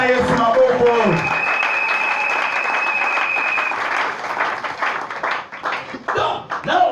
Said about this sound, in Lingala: On peut acclamer ici.